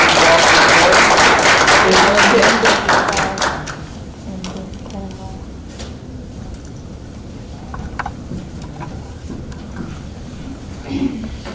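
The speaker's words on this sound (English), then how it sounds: "And you all, please give her a round of applause." An audience at a school business pitch event applauds loudly for a few seconds before the clapping fades, and a presenter starts speaking afterward.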